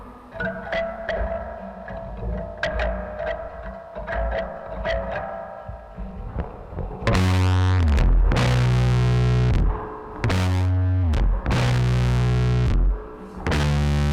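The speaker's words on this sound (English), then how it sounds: "We might have also been going through the space echo coming in a little bit." An electric guitar plays with heavy distortion and a repeating Space Echo tape echo, notes trailing and smearing, then loud sustained chords ring out.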